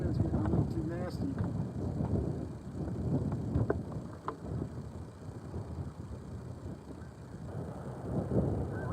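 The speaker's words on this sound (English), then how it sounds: "Oh, that wind's getting a little too nasty." Wind sweeps across the ice at a trout fishing spot in southeastern Minnesota, buffeting the microphone with a continuous low, gusty rumble that rises and falls for the whole stretch.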